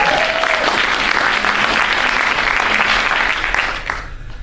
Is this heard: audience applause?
yes